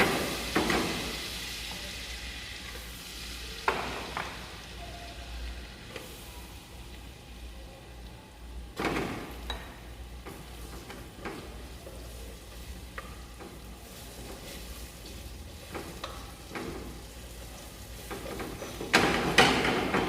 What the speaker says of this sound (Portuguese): agora eu vou ligar a panela e vou selar esse ossobuco